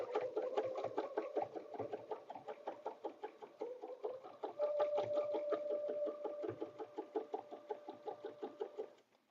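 A sewing machine quilting the border of a table runner, running in fast rhythmic mechanical stitching bursts with brief pauses, close and steady, a faint whine holding in the middle stretch.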